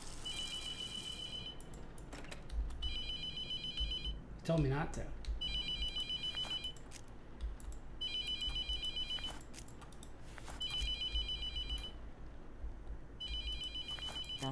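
A telephone rings in the horror video game The Mortuary Assistant, repeating shrill bursts at a steady pace over a low ambient drone, while a person talks between the rings.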